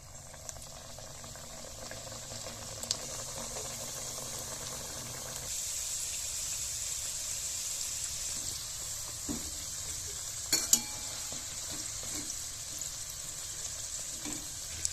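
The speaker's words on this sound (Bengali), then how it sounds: "কড়াইতে আমি আগে থেকেই তেল বসিয়ে নিয়েছিলাম, যেটা গরম হয়ে গেছে। এবার আমি ছেড়ে দেবো স্ন্যাক্সটা।" Cauliflower snacks fry on low flame in hot oil in a wok, producing a soft, steady bubbling sizzle with a few faint clicks and utensil taps, no voices.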